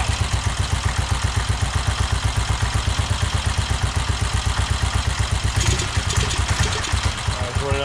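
A 1969 BSA Starfire single-cylinder motorcycle engine idles close by with a steady, even thumping beat that stays regular throughout, a voice speaking briefly over it.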